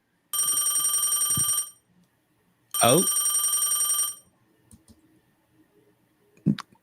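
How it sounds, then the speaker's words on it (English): Telephone ringing in two loud electronic trilling bursts, each lasting over a second. A short spoken exclamation and a few soft clicks follow. "It is the phone."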